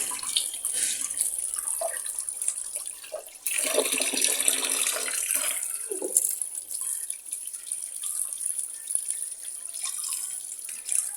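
Pieces of pangas fish are washed under running water in a sink, with a steady tap stream splashing and gurgling close by and louder surges of splashing as the pieces are rinsed. No one speaks.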